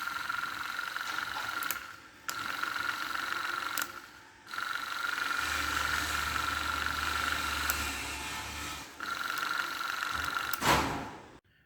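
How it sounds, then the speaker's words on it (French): Repaired Hirschmann hit 8900S electric antenna for a Mercedes, its small motor running with a steady whirring drone broken by brief pauses and restarts, close up with no talking. "Le moteur il refonctionne."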